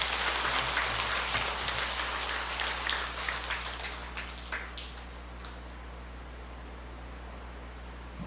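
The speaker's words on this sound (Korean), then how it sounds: "박수 치야죠 여기서" Applause from the audience at a Buddhist dharma talk at Hwagyesa temple, as dense clapping that starts loud and fades away over several seconds over a steady low hum.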